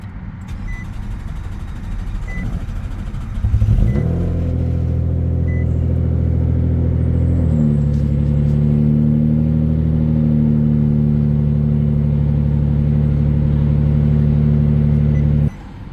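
A 2009-2014 Nissan Maxima engine cranks briefly and catches after throttle body and MAF sensor cleaning, then settles into a loud, steady idle with a small rise in pitch partway through, heard close and without talk.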